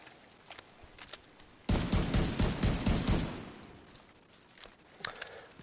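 Rapid bursts of SIG 716 variant rifle fire in The Division 2, a dense, loud volley lasting about two seconds, followed by fading echoes and a few scattered later shots.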